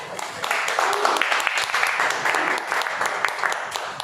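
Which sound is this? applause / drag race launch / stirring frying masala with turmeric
applause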